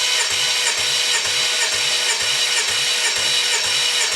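A Jaguar Land Rover XJ's 3.0 diesel engine cranking on the starter during a compression pressure test, a steady rhythmic chugging of about eight even pulses per second under a constant hiss.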